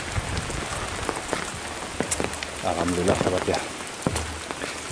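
Heavy rain pours down in a countryside village near rice fields, a dense, loud, steady hiss of drops on surfaces, while someone speaks briefly over it.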